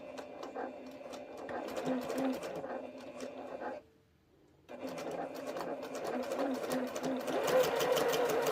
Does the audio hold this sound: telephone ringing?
no